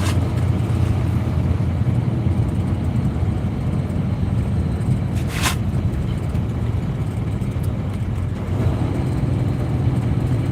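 A bus drives along a road, its engine and tyres making a loud, steady low rumble heard from inside, with a brief higher whoosh midway and no talking.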